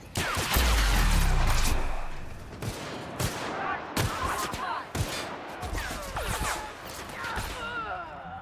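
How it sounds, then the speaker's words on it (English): Sustained gunfire in The Outer Worlds, a heavy opening burst followed by rapid repeated shots and sharp cracks, loud and close throughout with no talking over it. "Alright, guys, open fire."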